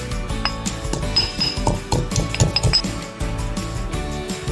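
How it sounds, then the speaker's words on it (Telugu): Five cardamom pods pounded by hand for bobbattu, a busy run of close metallic clinks and knocks from pestle and vessel, irregular and continuous with no speech. "ఇప్పుడు ఒక 5 యాలకులు దంచుకుందాం"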